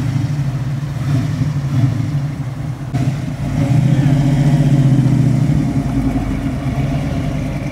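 A Jeep engine runs after a jump start, a low steady rumble that swells louder midway. Voices are heard over it.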